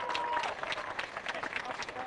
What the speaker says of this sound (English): let's clap for the parents who made all of this possible.